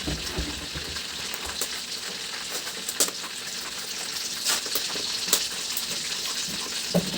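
Adobo sizzling and frying in a pan, a steady crackling hiss with occasional sharper pops and stirring scrapes, close and continuous without talk.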